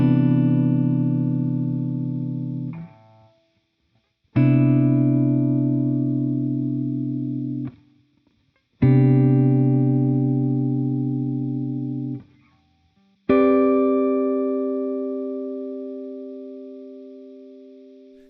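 An electric guitar with effects strums four sustained major seventh add ninth chord voicings, each ringing out and slowly decaying before a short silence, with shimmering chorus-like tone and no talking.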